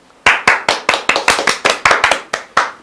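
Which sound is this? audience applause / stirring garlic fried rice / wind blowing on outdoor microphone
audience applause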